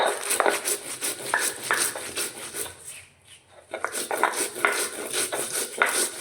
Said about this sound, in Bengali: সব একসঙ্গে বেটে নিচ্ছি।